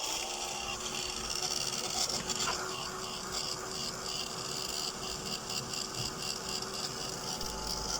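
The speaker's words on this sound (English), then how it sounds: "So let's just do that with the heat tool." A craft heat tool blowing over fabric tape, giving a steady, unbroken whirring hiss with a faint hum that holds at an even level from start to finish, close by and with no speech.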